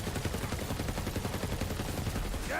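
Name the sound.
shotgun fire in Borderlands 3 video game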